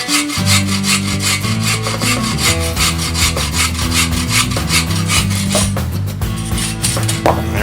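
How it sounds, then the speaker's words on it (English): A hand saw cuts through wood for a mallet in steady back-and-forth strokes, loud and close, with a rasping rhythm that continues throughout. "So I'm going to take my saw out."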